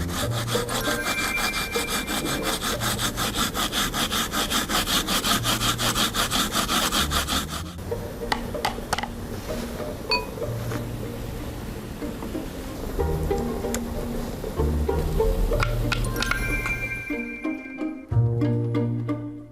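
A pear being grated by hand for pear juice in a Korean braised short rib (galbi-jjim) recipe, giving a loud, steady rasping scrape in quick repeated strokes that carries on for most of the time, with a few softer clatters near the end.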